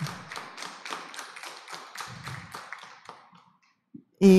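Crowd at an evening gathering clapping in a quick burst of applause that fades out over a few seconds, ending in near silence before a loud thump.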